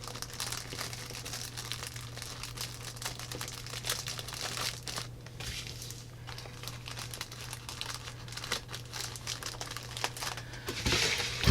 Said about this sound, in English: This bag's kind of long, so I'm just going to fold it down.